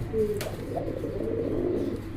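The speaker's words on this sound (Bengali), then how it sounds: "এখানে কিন্তু আরো এক জোড়া কবুতর আছে" Pigeons in a cage give soft, low cooing calls against a murmur of background noise, faint and close, with a brief sharper sound early on.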